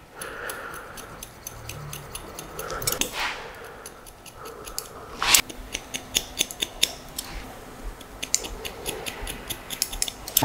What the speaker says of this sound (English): Now we just trim the ends